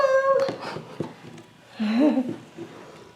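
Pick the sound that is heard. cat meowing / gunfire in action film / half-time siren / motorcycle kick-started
cat meowing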